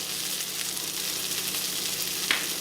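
Idli pieces crisping in a hot pan give off a constant loud sizzle and fry up close, with one brief stir or scrape near the end.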